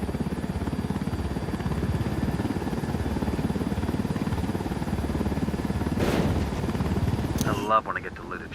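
A helicopter in the Ghost Recon Wildlands video game gives a loud, steady rhythmic rotor thump with a dense low drone, ending with a short clatter as it cuts off.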